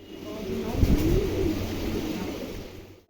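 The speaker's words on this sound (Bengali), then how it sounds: "বর্তমানে কবুতর জোড়াটা উমে রয়েছে দুইটা ডিমি পারছে" A pair of racing pigeons, currently brooding two eggs, coo softly at close range in a few low rolling calls over a steady background hum.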